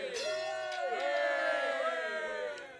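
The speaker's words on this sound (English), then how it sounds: "The tenantry, Burb, and Kazat give a big cheer" A crowd of castle tenants in a staged drama raises a big cheer, voices layered into a sustained, rising shout that holds steady for a few seconds before easing off.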